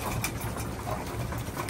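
Racing pigeons in their loft after a 25-mile toss, cooing steadily and close by in a soft, rolling chorus with a faint engine hum underneath.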